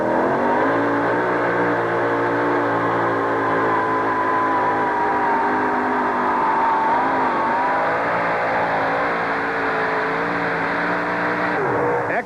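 Toyota truck engine roaring at sustained high revs through a two-wheel-drive truck pull at an indoor hot rod event, a steady loud drone with shifting pitch lasting throughout, with no voices over it.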